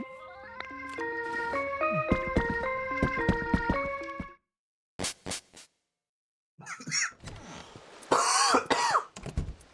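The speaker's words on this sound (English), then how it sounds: "I just coughed for a while." Coughing and throat clearing follow a stretch of chiming game music, with a few sharp bursts and then a longer rough spell of close hacking.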